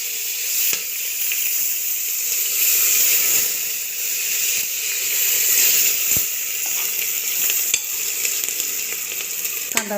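Chopped onion with cloves, black peppercorns and shahjeera sizzles steadily in hot oil for mutton biryani, a loud, continuous frying hiss with a few sharp crackles and pops and no voices.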